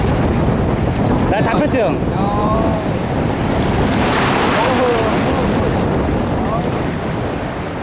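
Loud surf rolls and crashes on a Sri Lankan shore with gusty wind noise, while a voice speaks briefly over the roar.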